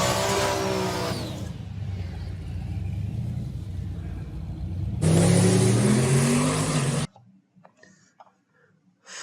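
A car engine revs and holds a steady RPM in two loud bursts, one brief at the start and a longer sustained one later, with a quieter idle between them and near silence at the end.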